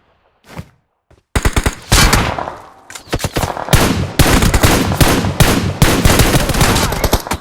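Rapid bursts of automatic gunfire from the mobile game PUBG Mobile rattle loud and dense, with short pauses between strings of shots and a brief quiet lead-in before the shooting starts.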